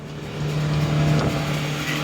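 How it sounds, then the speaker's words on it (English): A Polaris utility vehicle pulls away with a steady low engine drone that swells slightly as it gets moving. It stays close and fairly loud throughout, with no voices. "We're going to hop in the Polaris and get to the spot."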